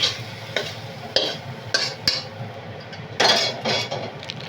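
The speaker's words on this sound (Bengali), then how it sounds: "শাক হয়ে গেছে, এদিকে নাড়ি ফেলবো" Cooked greens (shak) are stirred in a pan, with loud, close bursts of scraping and clinking from the spoon over a faint sizzle, separated by short pauses.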